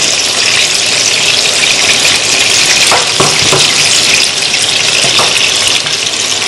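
Potato pieces frying in hot oil, a loud, dense, continuous crackling sizzle close up, with a few faint knocks in the middle and no voices.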